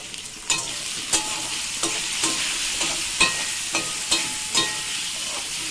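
Potatoes frying in a pan with salt and turmeric, with a steady sizzle broken by about eight sharp scraping clicks as a spatula stirs them at a regular pace, close and clear with no voices.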